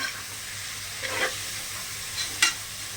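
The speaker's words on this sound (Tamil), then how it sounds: "இது வதங்கட்டும் வெங்காயம் வதங்கினதுக்கப்புறம் நம்ம இஞ்சி பூண்டு சேர்த்துக்கலாம்" Onions sautéing in a pan for tomato rice, a steady soft sizzle with a few brief stirring scrapes, close and continuous with no talk.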